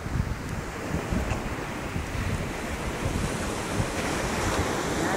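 Large sea waves roll and wash near the shore by the coast, a steady, loud surging roar with heavy wind buffeting the microphone and no talking.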